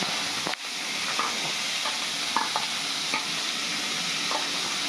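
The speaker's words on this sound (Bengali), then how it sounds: "ফোড়নটা ভাজা হয়ে গেছে এবার আমি পেঁয়াজগুলো দিয়ে দেব" Onions frying in hot oil with tempering spices, a loud constant sizzling hiss close by, broken by several brief spatula scrapes and stirring knocks; no talking.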